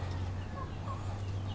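Poultry calling outdoors, with gobbling, clucking bird sounds over a steady low background hum, fairly close and continuous.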